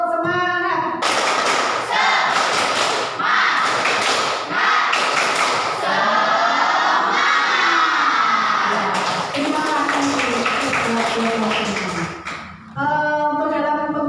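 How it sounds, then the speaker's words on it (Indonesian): A classroom of children performs a rhythmic spirit clap, with loud clustered claps and thumps landing in quick bursts while their young voices chant along throughout. "mari kita bertepuk semangat dulu ya anak-anak ya"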